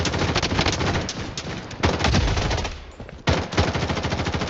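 Rapid automatic gunfire in the mobile shooter Blood Strike, dense loud bursts of rattling shots that pause briefly and then resume, close and continuous across the clip.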